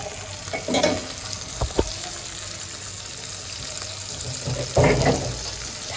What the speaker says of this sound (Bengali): হালকা মিডিয়াম জালে ভেজে নেব। এই হচ্ছে একটু সরষের তেল দিয়ে নিলাম।